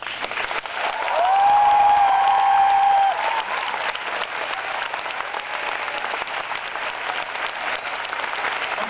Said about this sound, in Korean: 더 큰, 더 힘찬 박수와 응원을 부탁드릴게요